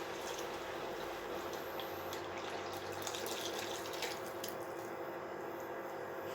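A vegetable lasagna mixture is poured into a cooking pot, a steady, faint watery pouring and sloshing sound running continuously for several seconds.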